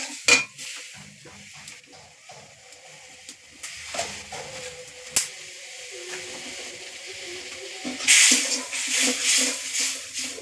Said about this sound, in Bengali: আর একটু জল দিচ্ছি জল দিয়ে একটু নেড়ে নিলাম